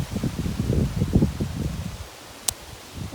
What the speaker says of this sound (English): sound of the wind